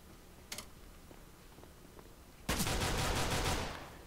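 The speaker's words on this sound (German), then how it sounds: "Nur von überall Schüsse und alles." Gunfire in Counter-Strike: Global Offensive: a single short shot, then a sustained rapid burst of automatic fire that fades out, heard alone without talk.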